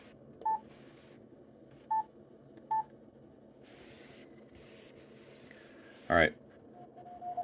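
Short two-tone beeps sound three times at a steady pace over faint radio hiss, then a brief warbling burst of data noise; a voice speaks briefly. Amateur radio stations calling a DXpedition on frequency.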